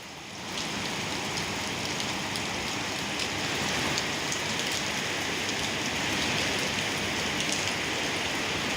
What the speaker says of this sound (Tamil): நள்ளிரவில் பெய்த மழை அரை மணி நேரத்திற்கு மேலாக நீடித்தது